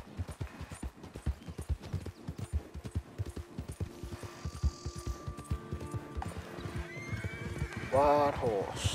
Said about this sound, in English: Wild horse.